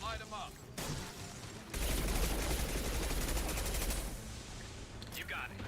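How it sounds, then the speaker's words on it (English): Sustained automatic gunfire with incendiary ammo in the Mass Effect video game, a dense rattling fusillade lasting a couple of seconds, loud and close, with brief game chatter around it. "No, Jacob, incendiary ammo, please."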